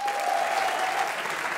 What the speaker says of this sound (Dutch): En blijft u alstublieft klappen.